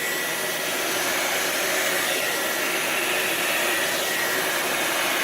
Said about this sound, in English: I have adapted a blow dryer.